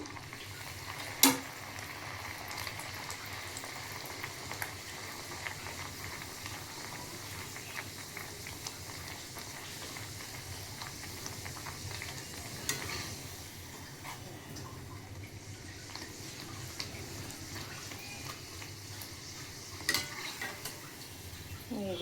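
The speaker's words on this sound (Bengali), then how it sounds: "এই যে তেল গরম করতে দিচ্ছি আর অলরেডি একটা বেলা হয়ে গেছে। চলো এগুলো ভেজে ফেলি।" Food frying in hot oil gives a low, steady sizzle that runs throughout, with occasional faint clicks and clatters of a utensil.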